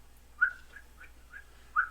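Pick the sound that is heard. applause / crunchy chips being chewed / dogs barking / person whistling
person whistling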